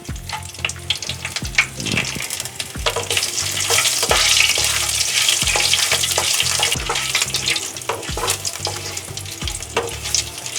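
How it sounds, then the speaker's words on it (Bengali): Bay leaves, dried chillies, cardamom and cloves sizzle in hot oil in a wok for a yogurt chicken curry, a steady close crackle broken by regular clinks and scrapes of a stirring spoon. "এবার আমি কড়াইতে এই 2টো তেজপাতা, শুকনো লঙ্কা, এলাচ আর লবঙ্গ এগুলো দিয়ে দেবো।"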